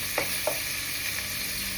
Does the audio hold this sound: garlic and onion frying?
yes